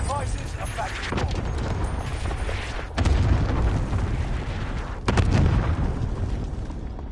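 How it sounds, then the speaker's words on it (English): Cluster strike explosions in the video game Warzone, a string of heavy booms and rumbling bursts rolling through the scene, with two sharper blasts standing out, under a voice speaking. "At your request, cluster strike is active."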